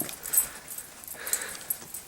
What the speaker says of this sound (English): Look at that dejected puppy.